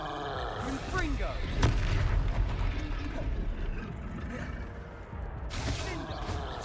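Confringo fire-spell blasts in the video game Hogwarts Legacy, booming, crackling bursts under a continuous wash of game noise, with a voice speaking over it.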